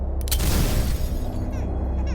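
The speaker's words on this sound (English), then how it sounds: "As the gunshot went off, the barrel of the revolver exploded in Clayface's hand" In an audio drama effect, a revolver fires as its barrel explodes, giving a sharp crack followed by a heavy, rumbling boom that sustains loudly for about two seconds.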